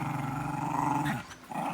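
A dog gives a deep, continuous growl while being patted, close and loud, breaking off briefly near the end before rumbling again.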